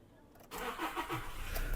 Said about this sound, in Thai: เดี๋ยวเขาจะทำการสตาร์ทให้ดูนะครับเครื่องยนต์ของคันนี้